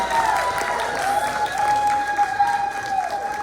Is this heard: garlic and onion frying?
no